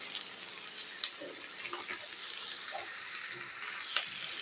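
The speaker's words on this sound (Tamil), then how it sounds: "எல்லாம் போட்டு கொஞ்சம் வதக்கிட்டுருக்கோம். வெங்காயம் வதங்கட்டும்." Onions, ginger, garlic and cashews sautéing in a pan, a soft steady sizzle with a few sharp clinks of a spoon against the pan, fairly quiet and with no talking.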